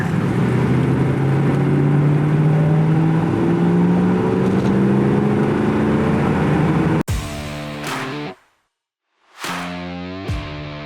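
A 1982 Corvette engine revving up hard, a loud rising roar and drone that cuts off abruptly, drops out to near silence for a moment, then returns.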